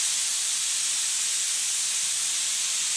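A spray gun shoots paint onto the door jambs of a 1935 Chevy, a steady close airy hiss held without a break.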